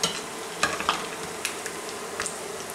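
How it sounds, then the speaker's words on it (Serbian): Rice fritters frying in hot oil, a continuous close sizzle with a few sharp spatula or utensil clicks against the pan. "Stavit ćemo drugi da se prže."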